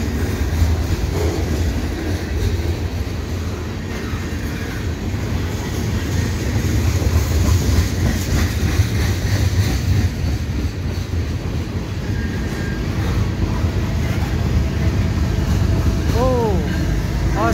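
A CN and CSX mixed freight train led by a single SD70M-2 rolls past in the rain, a loud steady rumble of wheels and cars with a rising horn-like tone near the end.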